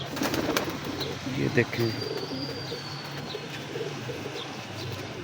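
Pigeons coo steadily in the background, a low murmuring rumble from several birds at a breeder's home loft, while someone talks over them and a few sharp chirps cut through.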